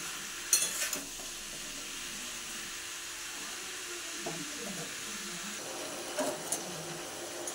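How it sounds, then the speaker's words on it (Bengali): Sliced potatoes sizzle steadily in a pan of hot oil, with several brief scraping stirs near the start and again toward the end, heard up close with no talking. "আলুটা আমার ভাজা হচ্ছে, তলা থেকে আরেকবার নেড়ে দিলাম এটাকে, যাতে ওপর নিচ সমানভাবে ভাজা হয়ে যায়।"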